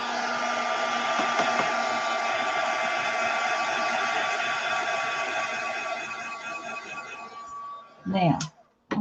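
A dryer runs steadily with a loud, droning whine for about eight seconds, drying a craft piece for a wooden village, then cuts off and a few brief handling sounds follow.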